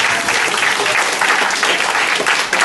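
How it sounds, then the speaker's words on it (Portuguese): Theatre audience breaks into dense, sustained applause, a loud continuous wash of many hands clapping together with no voices standing out. "Aplausos para Fátima Ribeiro."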